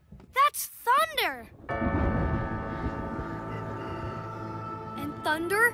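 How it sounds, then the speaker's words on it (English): A deep cartoon thunder rumble rolls in suddenly and slowly fades over a few seconds, with animated voices speaking just before and after. "That's thunder."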